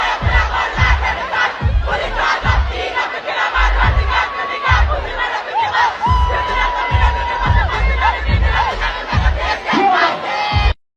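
Large concert crowd cheering and roaring loudly as a performer steps on stage, continuous dense shouting and whooping with a thumping rhythmic beat underneath, all running close and unbroken for the full length before cutting off abruptly.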